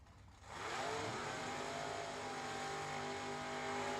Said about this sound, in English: That's the sound of the semifinals for door cars.